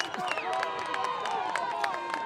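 High school football game crowd in the stands, a busy murmur of many voices with scattered shouts and claps, steady and moderately loud, with a clear voice talking over it.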